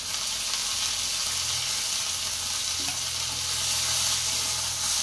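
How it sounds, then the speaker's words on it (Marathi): Washed beans roast in a few drops of hot oil on a heated iron griddle, giving a steady, close, loud sizzle and crackle with no voices. "चांगल्या करकर भाजून घ्यायच्या"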